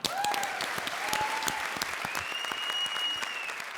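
Studio audience applause on a comedy show set, steady dense clapping with a few whistles, close and sustained throughout without talk.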